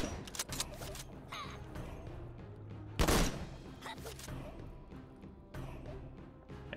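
A burst-type explosion in the artillery game Worms: Clan Wars, one loud, short blast midway through, set against busy game music and small effects.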